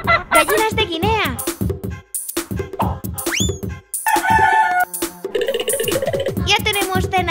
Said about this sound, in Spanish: ¡Gallinas de Guinea!